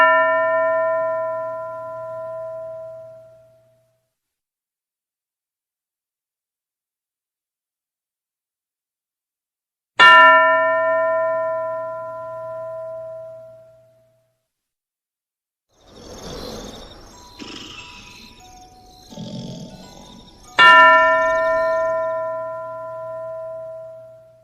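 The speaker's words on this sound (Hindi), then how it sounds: "हर घंटी के बाद सिर्फ 5 सेकंड मिलेंगे वाक्य बनाने के लिए और फिर अगले बच्चे के लिए घंटी बज जाएगी।" A bell rung in a Hindi-language classroom sentence-making game, three clear ringing strikes about ten seconds apart that each decay slowly, with a brief stretch of soft sound between the second and third.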